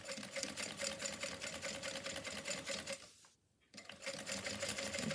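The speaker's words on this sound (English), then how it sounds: "I'm just going to sew down." A sewing machine runs steadily, stitching a quarter-inch seam with backstitching on a Ruthie bag. The close, even motor hum pauses briefly partway through before resuming.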